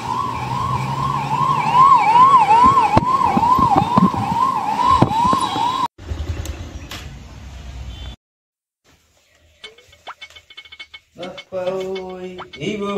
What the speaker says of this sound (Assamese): এম্বুলেন্স মাত